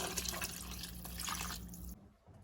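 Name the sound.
pouring water into a pot of broth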